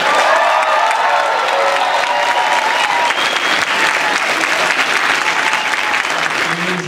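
A comic convention crowd in Portland greets Henry Winkler with loud, sustained applause mixed with cheers and shouts, a thick wall of clapping that stays strong throughout.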